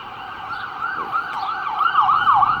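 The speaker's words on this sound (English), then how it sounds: "Oh, that's an ambulance." An ambulance siren wails steadily in a rising-and-falling pattern, growing louder toward the end as the emergency vehicle passes along a street in Fulton, Mississippi, with no voices over it.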